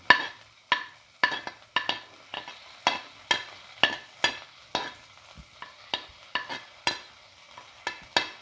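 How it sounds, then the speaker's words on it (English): Fennel seeds and onion seeds frying in a pan, a steady close sizzle broken by repeated sharp scraping stirs at an uneven rhythm, with no talking. "Now put in the fennel seeds and the onion seeds,"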